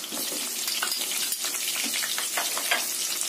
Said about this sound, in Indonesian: Ini aku sisakan minyak sedikit untuk menggoreng bawang merah, bawang putih dan cabenya.